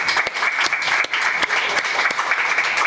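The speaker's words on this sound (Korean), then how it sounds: "박수로 결혼 축하합니다" Warm congregational applause fills a church worship service to congratulate a wedding, steady dense clapping close by that carries on without a break for a few seconds.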